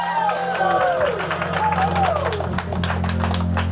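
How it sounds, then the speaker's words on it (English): A comedy and variety show crowd claps and cheers, with a loud voice calling out over the top before the clapping grows more distinct near the end. "Give a big round of applause!"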